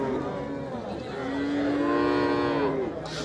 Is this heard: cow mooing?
yes